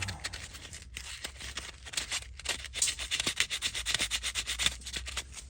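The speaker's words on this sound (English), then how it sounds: "Sand that there. That way it everything's good with it. Just scratch it up a little bit." Sandpaper rubs back and forth on a part from a 2012 EZGO gas golf cart, roughing up its surface in quick, close, rhythmic scratchy strokes that grow denser toward the end, with no talking.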